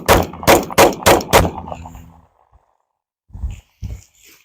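A PSA Dagger Micro pistol fires five sharp, loud shots in quick rhythm, each ringing briefly before fading, then two softer thumps follow after a pause.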